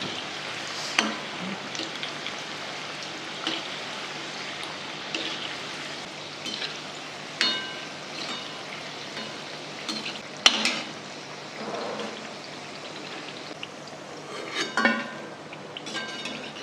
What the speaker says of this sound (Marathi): अशाच प्रकारे आपण आता सगळ्याला कापण्या लाटून घेऊ आणि तळून घेऊ